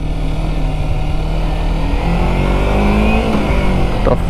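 Steady, loud engine drone from a Kawasaki Ninja 250R motorcycle cruising along, recorded up close with constant wind and road noise and a slight rise in pitch partway through.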